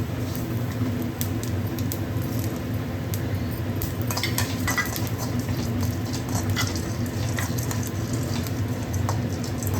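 Cumin seeds dry-roasting in a pan for country chicken rasam, a soft continuous sizzle and patter with light scraping and clinking of a spoon against the pan, close and steady throughout.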